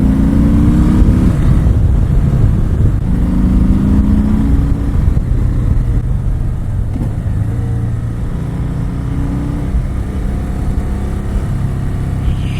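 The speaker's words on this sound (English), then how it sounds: "we're gonna enter the freeway and we're gonna rev this little sucker" A big Harley-Davidson Sport Glide 107 cruiser revs as it enters a freeway, a loud deep engine roar rising in pitch over rushing wind and road noise.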